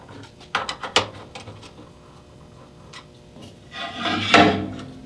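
Screws being backed out of the mounting rail on a band saw table, with a few sharp metallic clicks and knocks early on, then a louder scraping, rubbing burst near the end, close and alone without voices.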